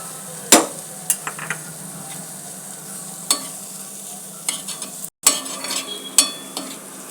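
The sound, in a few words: adding and stirring soya chunks on a tava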